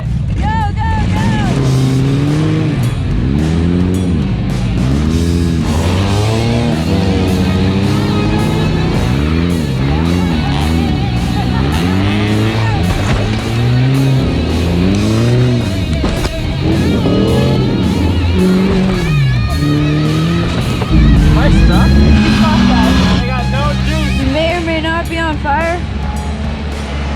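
Demolition derby cars driven in reverse during a race, engines revving loudly and continuously with rising and falling pitch, close and dominant, with people talking and shouting over the roar.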